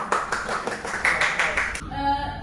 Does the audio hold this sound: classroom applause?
yes